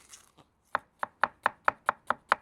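A knife thinly slices onions for smashburgers on a cutting board, eight crisp, evenly spaced cuts in a quick steady rhythm after a couple of faint lighter taps, close and clear with no talking.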